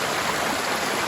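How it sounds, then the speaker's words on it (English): A river of water coming straight down from the mountain, a steady broadband rushing and gurgling flow, close and fairly loud, with no voices over it. "There's water coming straight from the mountain."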